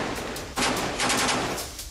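Rapid automatic gunfire during an IDF paratrooper assault on Hamas positions in southern Gaza, dense crackling bursts of shots firing in quick succession, loud and close, with no voices.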